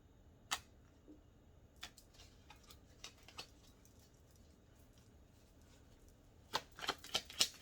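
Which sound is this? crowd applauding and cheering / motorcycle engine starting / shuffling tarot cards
shuffling tarot cards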